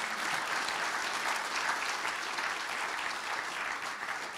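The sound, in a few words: audience applause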